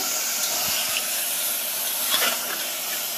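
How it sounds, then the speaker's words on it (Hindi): Chicken pieces frying in a pot for homemade chicken soup give off a broad, steady steamy hiss, close and continuous with faint scrapes, no talk. "अब इसमें हमने चिकन को डाल दिया अब इसे हमें भूनना है"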